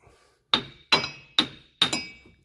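Four sharp metallic hammer strikes, evenly spaced and close, ring out while splitting off a rusted front hub bearing on a 2003 Chevy Avalanche, each blow decaying briefly before the next.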